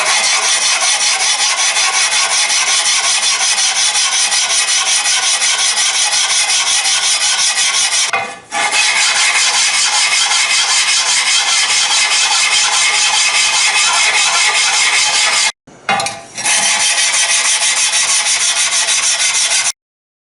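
A Stanley hand plane body is lapped flat on abrasive in long, steady, loud scraping strokes that run almost continuously, broken by two brief pauses, with no talking.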